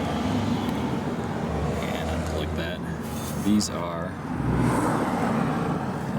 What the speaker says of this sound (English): a lot of traffic noise here, obviously